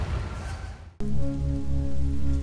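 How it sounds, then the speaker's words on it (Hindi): Heavy rain pours on Randall's Island in Queens, New York, a dense, steady hiss up close. After a sharp cut it continues under a low droning tone. "बारिश ने ज़ोर पकड़ लिया और शदीद बारिश शुरू हो गई"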